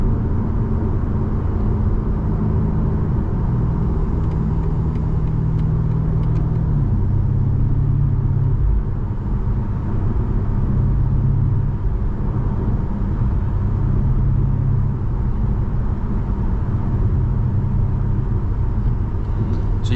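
A 2021 BMW M5 Competition launches hard and keeps accelerating, its engine a loud, steady low rumble that shifts pitch a couple of times as gears change, with no talk over it.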